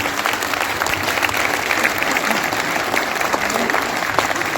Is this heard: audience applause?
yes